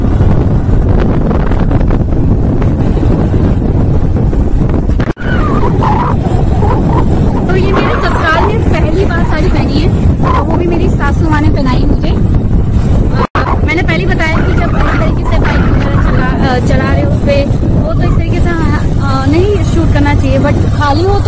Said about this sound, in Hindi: ये मेरे मिस्टर हबी बाइक चला रहे हैं